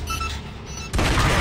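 A gunshot in the video game Gears of War: Judgment, a sudden loud burst that jumps in at the end and holds dense and full over a steady backdrop of game ambience, with no talking.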